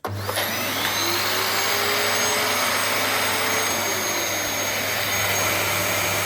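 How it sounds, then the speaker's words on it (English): An upright vacuum cleaner running loud and close in a steady whine-and-roar, a faint shift partway through as the brush bar switches off and back on, no voices. "when you have the machine switched on, the brush bar turns off automatically"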